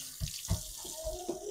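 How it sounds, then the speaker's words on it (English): Tap water running into a sink as hands are washed, a continuous close splashing flow with brief bumps and shifts as hands move under the stream. "Okay, guys, we're going to wash our hands."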